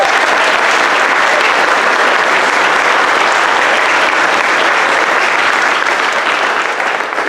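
An audience at a school concert gives all-county band members loud, sustained applause, a dense unbroken wash of clapping lasting throughout.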